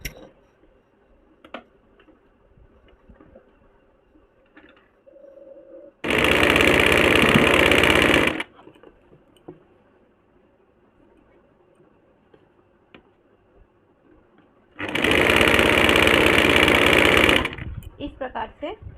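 A sewing machine stitches a folded kurti seam in two sustained loud bursts of about two seconds each, separated by quiet stretches of faint handling noise.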